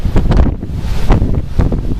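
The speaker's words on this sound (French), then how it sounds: "il y a une petite vague de vent là" Wind gusts during storm Kirk in Clermont-Ferrand, loud rumbling buffeting against the microphone in close surges, with no talking.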